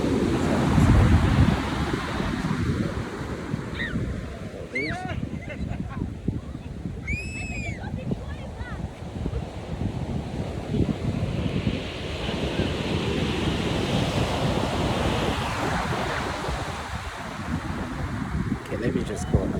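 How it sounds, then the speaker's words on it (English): Ocean waves surge and wash onto the shore at Araromi Beach, a continuous loud roar buffeted by heavy wind noise on the microphone, with faint voices and a few high calls underneath. "This place is called Araromi Beach."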